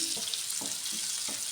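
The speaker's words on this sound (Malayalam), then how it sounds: "നമ്മുടെ എഗ്ഗ് നമുക്ക് ഈ എണ്ണയ്ക്ക് തന്നെ നമ്മൾ നേരത്തെ അരിഞ്ഞു വെച്ച 2 ഉള്ളി ആഡ് ചെയ്ത് കൊടുക്കാം." Two chopped onions frying in the oil left from frying eggs for an egg curry, a steady hiss with a few soft stirring scrapes, close and alone.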